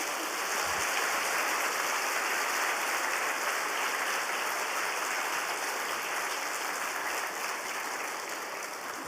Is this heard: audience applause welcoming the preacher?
yes